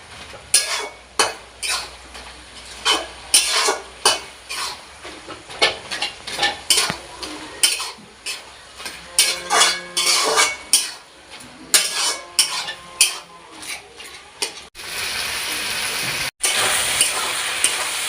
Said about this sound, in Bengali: এই চিংড়ি মাছগুলো আমি দিয়ে দিলাম, দিয়ে এটাকে আমি ভালো করে ঘাটবো